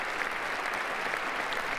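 Steady crowd applause at the 2025 presidential inauguration, a dense unbroken clapping roar from a large audience that holds at an even level without any voices on top.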